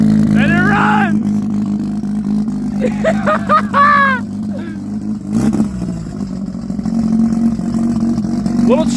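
A turbocharged Mazda RX-8 rotary engine idles on its first start after weeks of work, a steady droning hum with slightly choppy running, close by while people talk excitedly over it.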